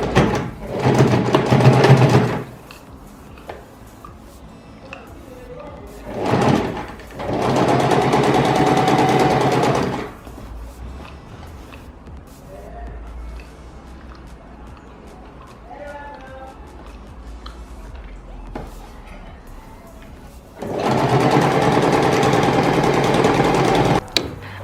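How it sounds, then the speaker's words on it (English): A home sewing machine runs a straight stitch on fabric in three loud, close bursts of rapid whirring, separated by quieter pauses. "sew it down with a straight stitch"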